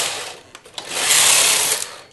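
A knitting machine transfers needles for a lace ornament pattern, a loud close mechanical run of clicks and ratcheting followed by a smooth sliding whir of the carriage.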